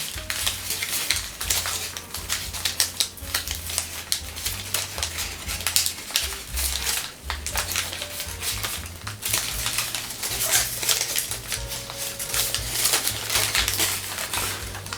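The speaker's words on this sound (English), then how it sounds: "making a valley fold, and now squash folding this whole area" Paper is squash folded while shaping an origami Ryujin dragon head, giving close, continuous crinkling and crisp rustling with brief sharp crackles.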